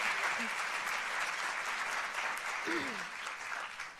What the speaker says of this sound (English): Let's give them a round of applause to extend our thanks.